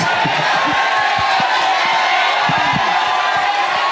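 A stand-up comedy audience claps and cheers steadily, a dense wash of applause with whoops and shouts, loud and continuous throughout.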